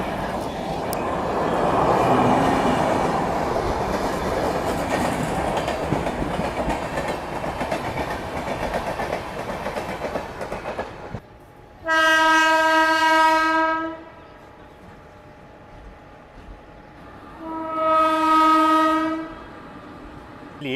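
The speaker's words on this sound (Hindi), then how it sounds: "मेरे ख्याल से समता एक्सप्रेस है ये।" The Samta Express, running Visakhapatnam to Hazrat Nizamuddin, rushes past at a crossing with a loud, steady roar and rattle of wagons, then sounds two long, loud horn blasts over a quieter rumble.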